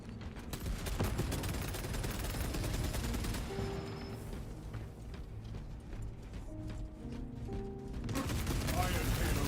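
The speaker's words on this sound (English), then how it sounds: "Throwing frag grenade." Gunfire and explosive blasts from Space Marine 2 multiplayer combat, including a thrown frag grenade, sound as a continuous dense barrage with game voice prompts and chatter over it.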